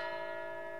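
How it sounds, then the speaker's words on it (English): A century-old tall case clock in the stately reception hall of an elegant house rings a single sustained chime tone, steady and resonant, for a brief moment with no voices. "A tall case clock stands in the stately reception hall of an elegant house. It has been there for 100 years, marking the passage of time with its chimes."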